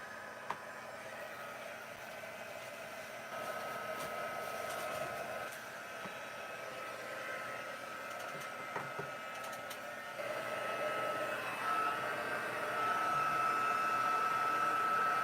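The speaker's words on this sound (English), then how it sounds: "now I'm going to get my heat gun out and see how this looks" A heat gun blows on a handmade greeting card, giving a continuous whooshing, fan-like hiss with a faint whine. It stays steady at moderate volume and gets slightly louder in the last few seconds.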